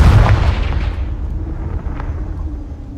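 A Confringo blasting spell explodes in the game Hogwarts Legacy: one loud, close blast with a heavy low rumble at the start, then a long decaying roar that keeps rumbling to the end.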